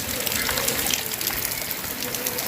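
Flood water rushes into a river area after about ten inches of heavy rain, a constant loud gushing and splashing flow with no pauses and no voices on top.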